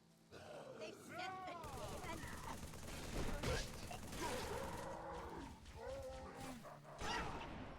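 Minigun fire rattles through a modded Halo match in rapid bursts alongside other game sounds, mixed into a busy, moderately loud soundscape.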